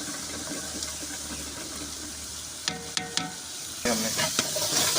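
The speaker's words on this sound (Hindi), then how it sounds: "अब शिमला मिर्च डालेंगे इसमें" Capsicum tipped into a hot frying pan in a village kitchen, a steady broad sizzle that jumps louder partway through with a few clattery stirring knocks, no voices.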